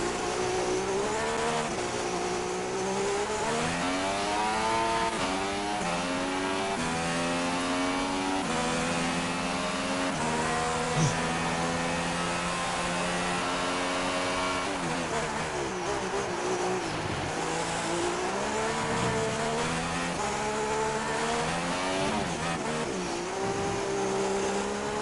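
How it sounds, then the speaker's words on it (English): Formula 3 race car from a racing video game screaming down a straight, with rising and falling engine pitch as it shifts through gears, steady and loud from an onboard view. "Right on board with RDO as he goes down the first straight"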